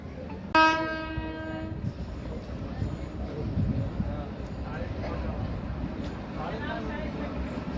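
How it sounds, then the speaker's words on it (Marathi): A Mumbai–Hingoli Jan Shatabdi Express train passes during a crossing, opening with a loud, sharp horn blast followed by a steady close rumble of rolling wagons. A voice can be heard faintly over the rumble. "आणि आता समोरून येत आहे मुंबई हिंगोली जनशताब्दी एक्सप्रेस. दोन्ही गाड्यांचे क्रॉसिंग होत आहे."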